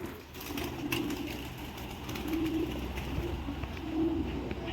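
Pigeons coo in soft, repeated rolling phrases, several bursts spaced a second or so apart, close by over a steady background hum.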